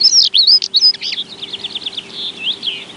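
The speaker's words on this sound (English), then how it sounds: "Beautiful birds, and quite an unusual bird as a breeding bird in Kent." Birdsong at Samphire Hoe, a chalk grassland beneath cliffs in Kent: a rapid series of high, clear chirps and warbled phrases, loud and close at first, then softer and more continuous, with no voices.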